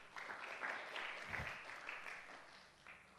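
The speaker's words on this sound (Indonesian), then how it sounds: "Boleh tepuk tangan buat Agus?" Scattered audience applause for a child named Agus at a faith-themed gathering, a steady wash of clapping throughout, moderate in level and somewhat distant.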